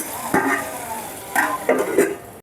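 Chopped tomatoes cooking in a pan for Andhra-style bottle gourd curry: a steady close sizzle broken by a few bursts of stirring and scraping, with no talk.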